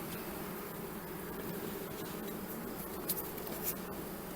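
Faint honeybees hum softly inside a sparse starter hive, a low steady drone with a few light knocks and scrapes from handling the frames.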